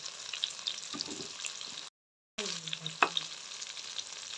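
Prawn pulao spices frying with turmeric powder in a pan, a steady hissing sizzle with light stirring scrapes, broken by a short silence before the frying noise resumes.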